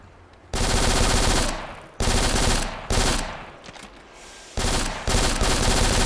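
Rapid bursts of automatic gunfire from a P90 submachine gun in the video game Black, several long sprays separated by short pauses, loud and close.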